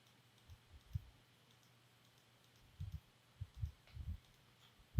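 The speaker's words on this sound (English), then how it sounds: "hold the shift key and click here" Mouse clicks on a computer while holding the shift key, a few soft isolated clicks followed by a quicker cluster, close and quiet with no talking.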